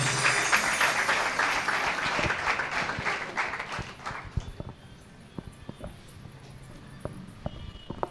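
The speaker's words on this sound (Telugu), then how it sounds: "చప్పట్లు కొడుతూ దేవుని నామాన్ని మహింపరుద్దామా?" Church congregation clapping hands together at a watch night service, a dense sustained applause that gradually thins into scattered individual claps toward the end.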